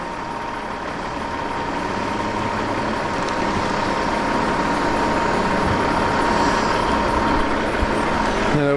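A Caterpillar 748L log skidder works steadily nearby, its heavy diesel engine droning continuously at a constant loud level with a faint mechanical whine riding on top, no voices.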